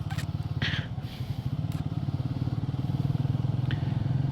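A motorcycle rides a narrow, steep mountain road in Himachal Pradesh. Its engine runs steadily and close for the whole stretch, with a low, even chug and light rattling over it. No one speaks.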